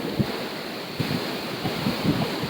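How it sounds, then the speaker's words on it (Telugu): Big ocean waves rolling in at Morjim beach, Goa, a continuous roar of surf with soft thumps of breaking water, mixed with gusty wind buffeting the microphone. "పెద్ద పెద్ద అలలు."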